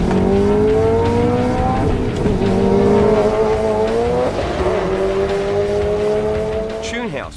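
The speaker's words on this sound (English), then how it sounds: "The STI turned out to be a monster, cracking the 100 barrier in under 4 seconds and running deep into the 12s down the quarter mile" A tuned Subaru STI accelerating hard down a quarter-mile drag strip, its engine roaring loud and close as revs climb, drop briefly at gear shifts and climb again before fading at the end.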